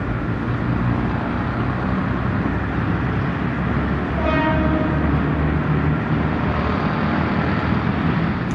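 A Bachmann model of the British Railways Derby Lightweight diesel multiple unit runs with a steady, close, rumbling mechanical drone, and a short horn-like tone sounds about halfway through. No one talks.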